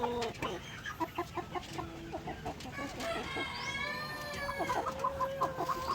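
Barred Rock hens cluck in short repeated bursts alongside higher chirping bird calls, fairly close, with a steady rustle of background noise throughout.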